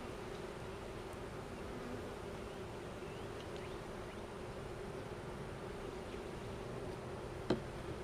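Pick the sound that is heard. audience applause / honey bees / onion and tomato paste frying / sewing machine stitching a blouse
honey bees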